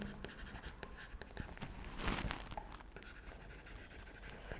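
Pen or chalk writing on a board during a lecture on time complexity, with faint scratchy strokes and taps in a quiet room and a louder scraping stroke midway.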